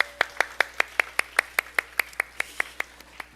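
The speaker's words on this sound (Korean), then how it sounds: "격려의 박수 한번 하겠습니다" A congregation at a middle-school Sunday church service claps in encouragement in tight unison, sharp evenly spaced beats about five per second, close and crisp against a quiet room.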